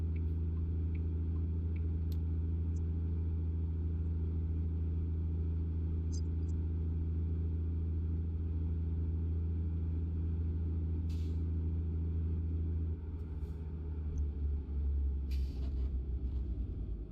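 An American Truck Simulator truck drives along with a steady, loud low engine drone throughout, and a couple of short hissing bursts near the end.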